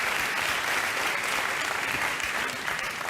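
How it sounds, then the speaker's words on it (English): A live audience claps loudly and continuously, a dense sustained wave of applause filling the whole moment. "Thank you again for your applause."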